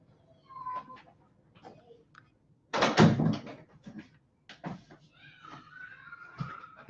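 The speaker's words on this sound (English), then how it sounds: "I'm gonna shut my door." A bedroom door shut at home, a loud thud with rattle in the middle of the clip, surrounded by quieter shuffling, faint knocks and a cat's brief mewing.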